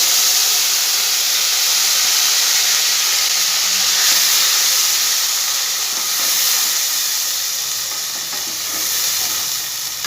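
Ground spice paste sizzles loudly in hot oil for a rohu fish curry with ridge gourd and potato, a steady dense frying hiss that continues unbroken throughout, with no talking.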